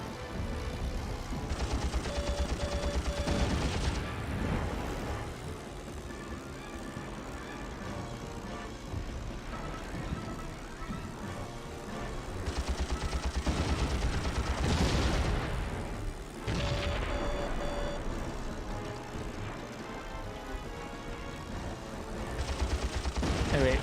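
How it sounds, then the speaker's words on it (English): Aircraft strafing and bombing landing craft in the video game Heroes of the Pacific, with repeated bursts of machine-gun fire, booming explosions and a steady engine drone across the whole stretch. "And strafing and bombing the landing craft."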